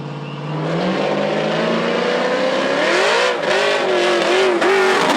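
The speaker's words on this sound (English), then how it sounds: "It's a pedal fest on those hard tires as both drivers struggle to bring the vehicles into traction" Hard-tire drag race cars launching side by side at Knoxville Dragway, engines roaring loud and close, revs climbing and wavering as the drivers pedal for traction, a continuous dense snarl with no voices.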